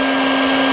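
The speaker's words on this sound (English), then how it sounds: "he's going to close the end of that vacuum, put a little extra suction on it" A vacuum used for bee removal sucks bees through a smooth hose into a Dadant swarm catch box, giving a loud, steady motor drone with a constant hum throughout.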